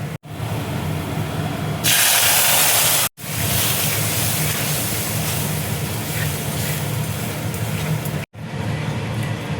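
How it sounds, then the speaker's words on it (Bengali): Milk hits a hot pan of lightly browned halwa mixture, setting off a loud, broad steam hiss that flares sharply for a moment, breaks off briefly, then settles into continuous sizzling bubbling. "এবার আমি দুধ দিয়ে দেবো।"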